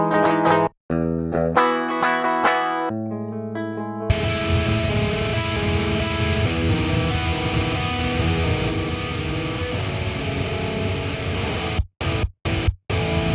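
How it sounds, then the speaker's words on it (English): Distorted electric rhythm guitar played through a Bogner amp preset in STL Tones AmpHub, with sparse stabbed chords at first, then a thick sustained chugging riff, then a few sharp staccato hits at the end. "I have a preset called the Chewy Bogner Rhythm Guitar that's actually available on the STL Tones Exchange"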